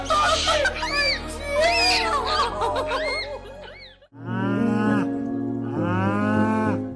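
A cow gives long, loud moos, several drawn-out calls in a row close to the microphone, with a short pause before a final pair of strong bellows.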